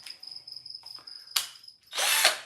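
A power drill fitted with a countersink bit bores into wood while a birdhouse is being built, giving short bursts of whirring and a louder final grinding run, close and alone.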